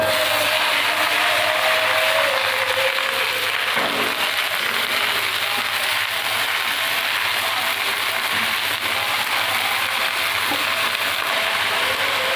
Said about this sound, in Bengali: পেঁয়াজ লঙ্কা দিয়ে একটু ভেজে নিয়েছি এবার ঝোলটা দিয়ে দেবো